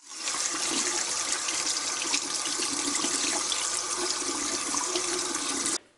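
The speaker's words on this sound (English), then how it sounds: "I'm just going to go ahead and give this a rinse" Kitchen tap water runs steadily as something gets rinsed under it, a loud even rush that starts abruptly and cuts off near the end, with no talking.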